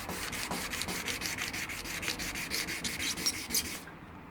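Hand sanding of a motorcycle engine case (Honda CB250N) with 800 grit sandpaper, steady rhythmic rubbing strokes repeating close up for about four seconds, then stopping.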